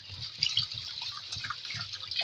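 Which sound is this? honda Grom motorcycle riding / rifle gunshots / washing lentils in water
washing lentils in water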